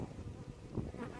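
Honey bees buzz steadily around an open hive during an inspection where frames are being brushed off, a dense continuous drone close by with no speech.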